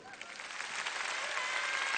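Concert audience applauding an introduction before an 1844 piano, the dense clapping swelling from moderate to full and steady over two seconds, with a faint tone running through.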